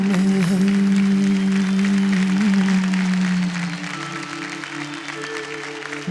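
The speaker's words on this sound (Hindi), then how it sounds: "जोरदार तालियां हो जाए" An audience at a televised dance show applauds after a performance. Sustained clapping runs under a loud tonal hum and music, then eases slightly partway through while continuing steadily.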